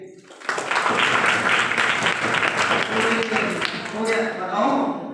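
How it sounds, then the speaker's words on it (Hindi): Students in a classroom clap for a classmate's good answer, a dense burst of applause that starts abruptly and holds steady for several seconds, close and fairly loud, with faint voices mixed in near the end. "ताली बजेगी इसकी"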